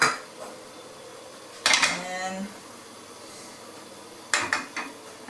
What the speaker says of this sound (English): Try to move it around so it will not stick, the rice not stick to the pan.